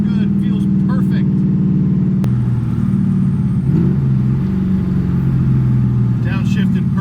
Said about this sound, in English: Downshifted perfectly.